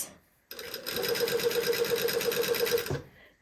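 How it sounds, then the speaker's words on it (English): A sewing machine stitching piping in place on fabric, starting abruptly and running at a steady, even buzzing rhythm for about two and a half seconds before stopping, close and clear. "now we're just going to sew this in place"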